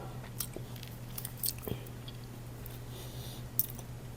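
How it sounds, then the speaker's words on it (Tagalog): Close, quiet chewing of a Dubai chewy chocolate cookie, soft moist bites and a few faint crunchy clicks spread unevenly over a few seconds against a low background hum. "And then yung nguya mo siya, parang kang nguya ng sprinkles na pinagsama-sama."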